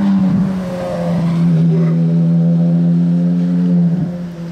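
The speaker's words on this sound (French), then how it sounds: "Elle a un échappement celle-ci, vous entendez?" A Porsche Carrera GT's exhaust roars loud and steady at close range, a deep sustained engine drone with rich harmonics that swells slightly and holds for several seconds with no talk over it.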